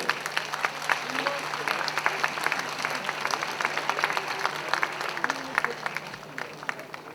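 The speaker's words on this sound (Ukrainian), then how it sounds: "Просимо оплески!" An audience at a poetry festival applauds as a guest poet is welcomed; many hands clap in a lively, uneven patter with distinct individual claps standing out, moderately close and sustained throughout.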